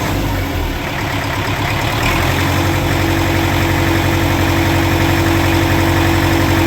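An MTZ-80 tractor engine idles close by after being repaired, giving a steady, loud, low diesel rumble with an even mechanical throb and no talking throughout.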